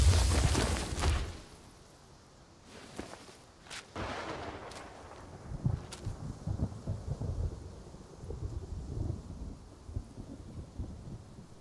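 A thunderstorm in the game Black Myth: Wukong: a loud thunder crack opens, followed by rolling rumbles and steady rain, with further low booms scattered throughout and no voices.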